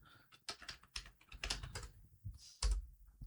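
Close computer keyboard typing, a quick run of distinct key clicks ending in a heavier thump like an enter key, with no speech over it.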